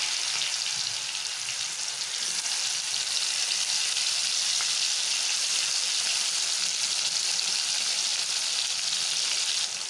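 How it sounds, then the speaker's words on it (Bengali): Ridge gourd frying in hot oil for a boal fish curry, giving a loud, steady, close sizzle with a bright hiss that holds unchanged throughout, with no talking. "এখন এই ঝিঙ্গাটাকে তেলের মধ্যে দিয়ে দিলাম।"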